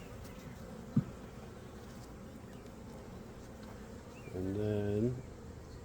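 Bees from an opened beehive fly close by with a short droning buzz that rises then fades, over a faint outdoor hum, with a sharp knock earlier and a few quiet spoken words.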